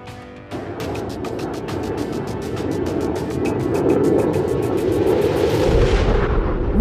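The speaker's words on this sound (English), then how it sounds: "See the wingman following his leader towards the target. The fragmentation bombs have shredded the target to bits." Fragmentation bombs dropped by air force jets explode on a target in a continuous rippling series of rapid blasts, a dense rolling rumble that swells louder toward the end, heard from a distance.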